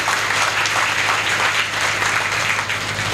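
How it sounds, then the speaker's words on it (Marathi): A crowd at a public speech gives loud, continuous applause, a thick wash of many hands clapping together without any speech over it. "गुहागरचे लोक जोरदार टाळ्या वाजवा त्यांच्यासाठी"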